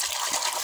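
Liquid poured into a pot of water while treating poultry, a brief close splash and gush lasting under a second, fairly soft.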